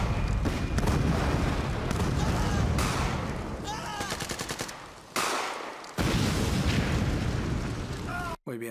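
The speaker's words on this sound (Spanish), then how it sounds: "Voy a ponerlo por esta parte donde hace la explosión." Loud war sound effects: heavy booming explosions, rattling machine-gun bursts and rumbling artillery, dense and continuous with abrupt cuts and brief drops to near silence.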